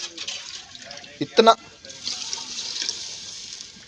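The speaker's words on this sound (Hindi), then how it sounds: "पानी जो है ना चावलों का वो ऐड हो चुका है" Water pours briefly into a pot of rice in a home kitchen, a short splashing burst in the middle, with faint trickling and someone speaking around it.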